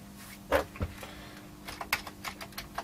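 Keys tapped on a Commodore C16 keyboard, a few distinct clicks at first, then a quicker run of light presses, close and fairly quiet over a faint background hum.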